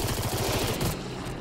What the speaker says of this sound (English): when the opportunity comes, shoot.